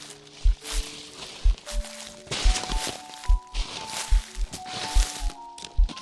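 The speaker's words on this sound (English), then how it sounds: "And then the sound of footsteps approaching." Footsteps approach through the woods in a steady walking rhythm, each heavy step thudding clearly over a rustling, crackling forest floor, with faint tonal ambience underneath.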